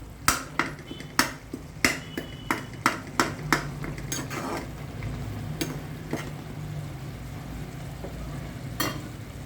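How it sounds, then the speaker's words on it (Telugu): Tomato and egg curry being mashed smooth in a pan: a run of sharp, regular metal taps and scrapes that slows and softens into quieter scraping and mushing, with a last clack near the end. "ఇదిగో దీంతో నూరుతున్నానండి మెత్తగా అయిపోవాలా ముక్కలు ఉండకూడదు"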